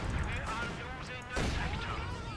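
Artillery shelling in Company of Heroes 2 thuds and crackles continuously with a louder impact partway through, while a voice speaks over the battle noise.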